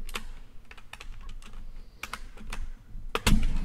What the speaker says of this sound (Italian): come avrete sentito la tastiera non è che abbia un grandissimo suono